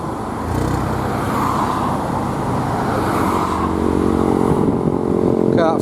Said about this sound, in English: Nice little convoy coming down now,